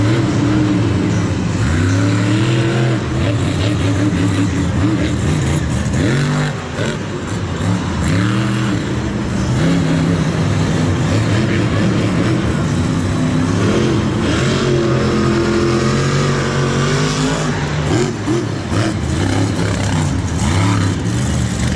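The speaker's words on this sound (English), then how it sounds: "Seems like its engine's really fighting it here. This truck does not sound right at all." Brutus monster truck roars around a muddy Monster Jam freestyle course, its engine revving and bogging in uneven surges that sound rough and strained, loud and sustained with no voices.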